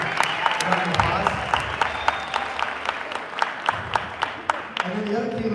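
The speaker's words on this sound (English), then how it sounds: "So let's give Haley a round of applause." A crowd applauds at a California flyer competition, with distinct individual claps standing out over a steady bed of clapping, and voices murmuring underneath.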